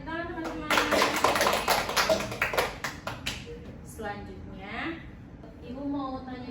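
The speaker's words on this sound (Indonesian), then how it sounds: "Tepuk tangan teman-teman" Classmates clap together for a few seconds in a classroom microteaching lesson about banana varieties, a burst of applause that fades as a teacher's voice continues speaking.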